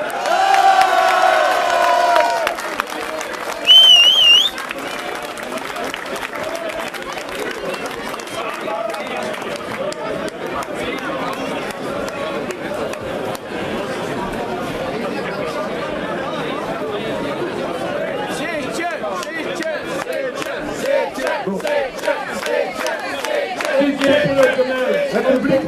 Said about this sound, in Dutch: Het publiek schreeuwt achter u.